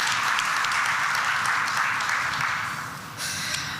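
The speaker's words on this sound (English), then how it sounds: "Can we have a round of applause for that?" Audience at a business school's women-in-leadership program opening applauds in a steady, moderately loud wash of clapping that thins and dips near the end before a final swell.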